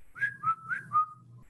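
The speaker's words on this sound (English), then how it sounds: "Can you whistle for me?" A person whistles during a cranial nerve examination, producing four short, clear rising-and-falling notes in quick succession, close and fairly soft, over a low background hum, with no talking.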